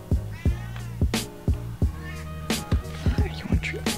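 Several cats meow in short repeated calls near a person who is handing out treats and calling to them, with bright tonal cries recurring roughly every half second and a steady low hum underneath.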